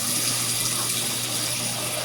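Tap water runs steadily into a cooking pot at a kitchen sink, a continuous close, even rushing hiss with no pauses or speech.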